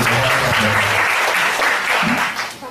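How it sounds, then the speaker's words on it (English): Audience applause at a health supplement product demonstration, a loud dense burst of clapping filling the room, with a brief cheer near the start, fading slightly toward the end. "Can you please give one more applause?"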